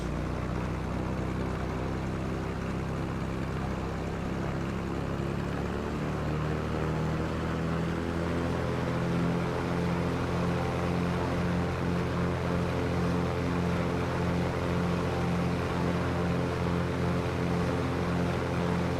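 Pipistrel Panthera propeller engine in the X-Plane 11 flight simulator, a steady loud drone that rises in pitch as the throttle is pushed up and then holds at a higher, constant roar throughout.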